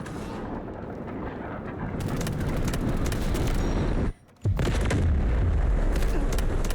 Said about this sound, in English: Missile strike on coordinates.